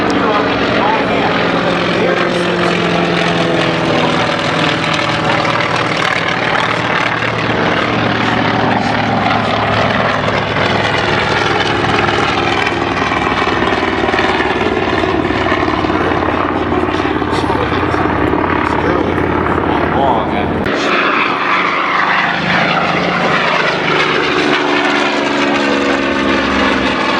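A WWII FM2 Wildcat propeller plane roars past at an airshow flyby, its loud, steady engine drone filling the air, swelling and then fading away while a voice talks over it.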